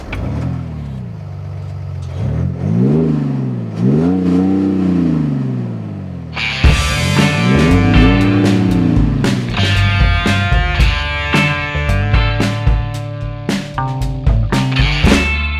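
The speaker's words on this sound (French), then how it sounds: "Ce diesel est une tuerie, il fait un bruit de Mustang" BMW X5 50d (2019) quad-turbo six-cylinder diesel revving in repeated rising and falling sweeps, then a louder, fuller stretch with music or other sound layered over the steady engine note.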